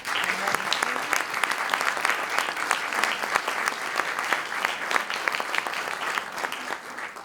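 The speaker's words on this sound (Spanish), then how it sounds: "Un aplauso, otro para David." Audience applauding a panelist at a book-collection launch event, steady dense clapping throughout, fairly close and moderately loud, with no voices over it.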